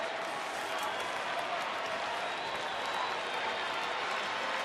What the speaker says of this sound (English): Ranger fans cheering the Rangers on to what would be another series win